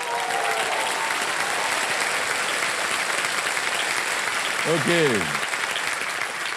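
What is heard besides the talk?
audience applause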